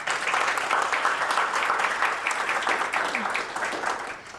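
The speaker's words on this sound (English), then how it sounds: "Let's give one more round of applause for our Diversity, Equity, and Inclusion Award finalists" Audience at an awards announcement applauds the diversity, equity and inclusion award finalists, a steady, fairly close burst of many hands clapping that holds throughout, with faint voices mixed in.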